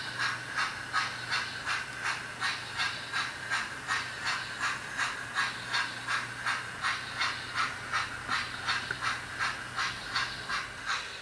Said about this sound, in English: I'll let you see these coaches go by.